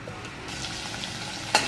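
Spice masala frying in a few ladles of hot oil for a Maharashtrian shev bhaji, giving a steady soft sizzle with stirring scrapes and one brief sharper clatter near the end; no one talks.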